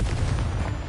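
Confringo blasting spell in Hogwarts Legacy: a short, loud, booming explosive blast with a rough, broad rumble, filling under a second.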